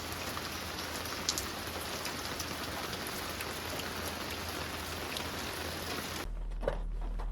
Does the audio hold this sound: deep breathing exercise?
no